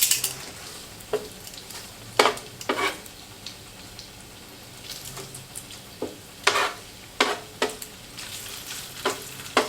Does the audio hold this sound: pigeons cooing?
no